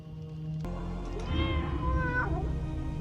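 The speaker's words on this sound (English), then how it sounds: "So that is a cat." A single drawn-out cat meow in a video game rises and falls over a low background hum, close and clear.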